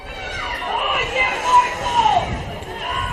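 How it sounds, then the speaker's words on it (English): Spectators in a football stadium grandstand at a Saturday afternoon NPL Victoria match between Moreland City and South Melbourne, a continuous mid-level murmur of crowd chatter with a few slight swells, heard under close talking. "We're here in a crowd that's built up."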